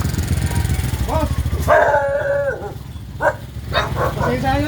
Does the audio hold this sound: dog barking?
yes